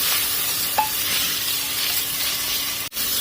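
Peeled tomatoes and two thick, mild green chillies frying briskly in a pan for a mutton masala chop gravy, making a loud, close, continuous sizzle with a brief stirring clink.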